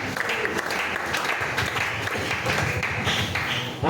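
Congregation applauding in a church during an evening communion service, a dense continuous burst of clapping that holds steady for a few seconds, close and loud.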